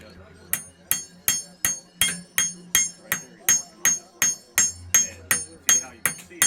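A blacksmith hammering a knife blade taper, a steady run of about sixteen sharp ringing hammer blows at an even rhythm, loud and close, with a faint low hum between strikes.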